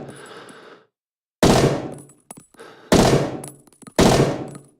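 Three loud, close bursts of automatic gunfire from the MAB 38 submachine gun (named Map 49 in speech) on a practice range in Rising Storm 2, with brief quiet gaps between them.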